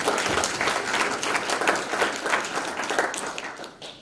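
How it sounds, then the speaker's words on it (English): Audience at a Marinwood fire safety community meeting breaks into applause: dense, even clapping from a room full of people that holds steady, then begins to thin out at the end. "If you can join me in a round of applause."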